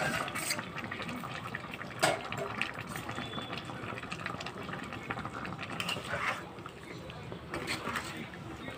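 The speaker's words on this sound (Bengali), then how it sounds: "এবার জল দিয়ে দেব।" Water pours into a pan of prawn and pointed gourd curry as a steady, close splashing and gushing stream that runs through the whole stretch. There is light background noise throughout.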